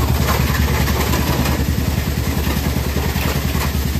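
A motorcycle engine idles steadily and loudly up close, a continuous low rhythmic throb with no talking over it.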